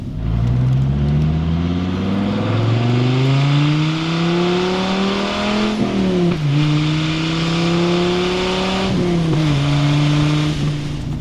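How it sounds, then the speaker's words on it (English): A 1994 Dodge Viper RT10 being driven, its engine heard from inside, rising through the gears with steady revving climbs, a couple of shifts dropping the pitch briefly before it pulls again; loud and continuous, with no talking. "So now that we're driving the car, what does it feel like?"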